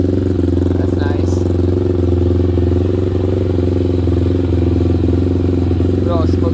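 A Daytona motorcycle engine idles steadily and loudly up close after a full teardown and rebuild, with a continuous mechanical hum and a faint clatter beneath it.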